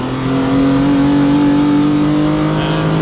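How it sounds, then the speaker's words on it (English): A Lancia Stratos engine roars loud and close on the Castle Combe race circuit, a steady high rev held near the limit with a strong, sustained droning tone. "take it up to the rev limit"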